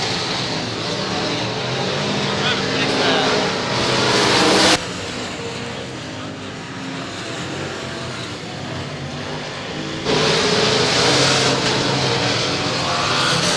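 Limited modified race cars at speed during a heat race at the Southern Nationals speedway: a dense, continuous engine roar whose level swells and dips as the pack passes, with commentary partly blended in.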